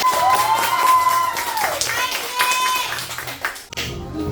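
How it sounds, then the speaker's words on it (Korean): Brief clapping sounds under a bright, busy musical background, fading out near the end. "우리 이제 다혜 MC가 떨지 말라고 한번 힘찬 박수 보내줄까요"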